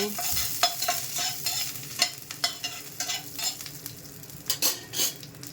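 Cumin seeds and curry leaves frying in hot oil in a pan for fried idli, a steady crackling sizzle broken by repeated sharp clinks and scrapes of a spoon stirring against the metal, with no talking.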